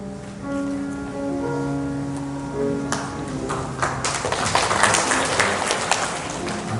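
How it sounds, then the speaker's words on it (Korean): Applause from an audience at a Korean memorial event starts while a sustained musical tone is still ringing. It then grows into dense, crackling clapping that continues to the end. "박수를 치셨습니다."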